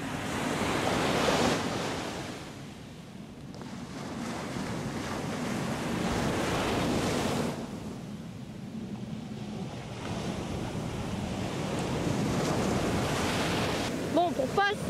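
Steady wind buffeting the microphone at a Corsican seaside, blended with surf washing ashore, loud and continuous throughout with swells and lulls and no voices.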